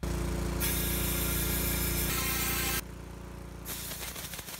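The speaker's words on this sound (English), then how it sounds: "I'm just gonna blow some compressed air down through this pipe, the flue, and the burner stack here" Compressed air is blown down the flue pipe and burner stack of a Consul Danby propane fridge, a loud hissing blast lasting about two seconds over a steady engine-like drone, then cutting off.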